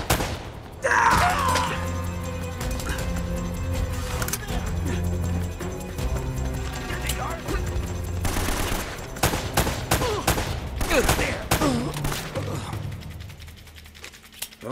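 Dense gunfire in the Uncharted video game, with repeated bursts and single loud shots crackling over music and effects throughout, and brief voices calling out between volleys.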